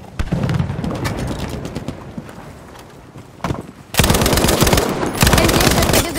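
Automatic gunfire in the Battlefield V video game: rapid bursts of shots, sparser early on, then a dense, loud stretch of continuous firing in the second half.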